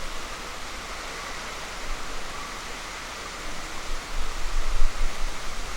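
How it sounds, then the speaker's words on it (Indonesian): Light drizzle with fairly strong wind, a steady broadband hiss of rain and gusts that swell louder toward the end, heard alone with no talk. "Jadi kondisi hari ini lagi hujan gerimis teman-teman, ditambah angin lumayan kencang."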